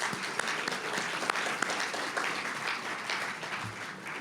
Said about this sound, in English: if you join me in giving them a round of applause